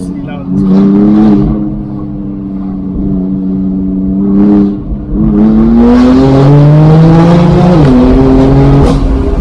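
A BMW M4 CS engine revs loudly up and down through long, rising and falling pulls, with a brief dip midway, while people talk over it.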